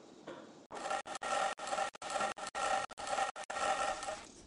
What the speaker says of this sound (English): Shape the body of the car with your plane.